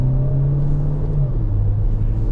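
A 2026 Chevrolet Equinox LT AWD gathers speed, its engine droning low and steady with a slight pitch shift midway, heard from inside the cabin as a continuous rumble.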